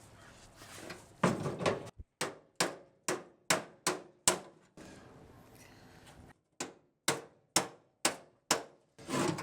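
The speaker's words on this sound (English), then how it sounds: "So the term is hammer and dolly." Hammer and dolly straightening a dented lower front fender on a Plymouth Satellite, sharp metallic blows in quick bursts of evenly spaced strikes, close and loud, with short pauses between rounds.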